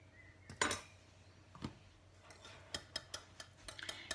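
Garlic powder and other spices get stirred together in a bowl, a run of light clinks and ticks of a utensil against the dish, sparse at first and then quicker and more regular, close and fairly quiet with no talking.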